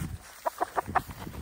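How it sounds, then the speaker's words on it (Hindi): Hens cluck in a quick series of four or five short, evenly spaced clucks, fairly close and moderately loud, with faint rustling beneath. "मुर्गियां हम लोग ने उठा ली हैं,"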